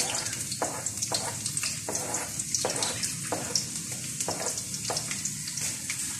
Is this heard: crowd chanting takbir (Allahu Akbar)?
no